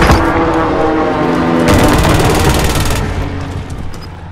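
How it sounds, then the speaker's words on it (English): Airstrike explosions in the Call of Duty: Modern Warfare video game, a loud, continuous roar of blasts and rumbling booms, with a dense burst of rapid impacts in the middle before the noise settles. "Airstrike!"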